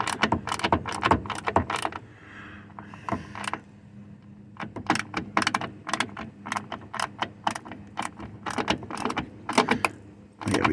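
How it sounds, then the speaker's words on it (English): Repeated sharp metallic clicks and ratcheting as rear brake line brackets are screwed into an MGB, rapid irregular bursts with a brief quieter pause, close and fairly loud. "Just screwing in the brackets."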